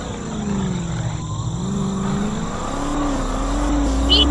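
A car pushing forward at speed, its engine a steady close drone whose pitch slowly climbs, with road and wind noise beneath and no voices.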